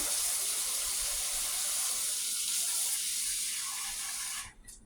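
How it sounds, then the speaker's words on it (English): A tap runs steadily with a loud, hissing rush of hot water into a sink, then cuts off abruptly near the end. "Turn some hot water on."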